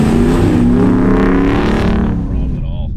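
A 2019 Ram Rebel truck in four-wheel drive accelerating up a snowy hill, its engine roaring loud and close with a rising rev that eases off toward the end, and a voice heard over it.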